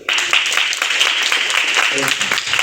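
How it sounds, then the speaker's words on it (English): At a women's business event in a Kolkata hotel, an audience breaks into a round of clapping that starts abruptly and carries on steadily, with a voice briefly audible over it near the end. "Big round of applause for her."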